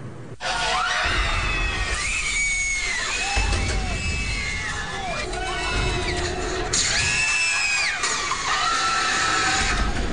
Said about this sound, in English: when the doors pop open and you hear guests screaming